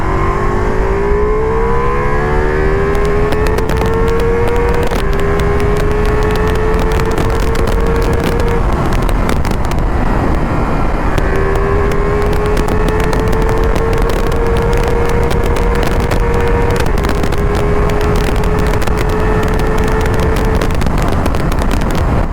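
Ducati Multistrada V4 S motorcycle cruising at high speed on an open road, its engine droning loud and steady with long rising gear pulls and brief dips at each shift, wind buffeting constantly over it.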